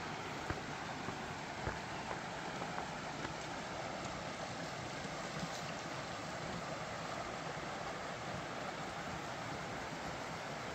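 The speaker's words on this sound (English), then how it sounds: "Listen to the sound of the water." Flowing water from an Ottoman-era channel at a desert monastery in the Judean Desert, a quiet steady rushing wash with faint ambient rumble throughout.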